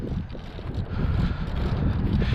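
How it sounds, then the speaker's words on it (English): Wind blowing outdoors at a small flying field, a continuous low rumbling buffet of gusts on the microphone, steady and fairly loud with no voices. "it is a bit windy"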